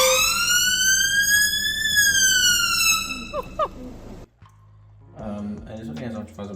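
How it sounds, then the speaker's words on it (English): A rising and falling wail from the siren on a fire service vehicle, loud and close for about three seconds before cutting off, followed by someone talking. "to activate the siren first, then it works"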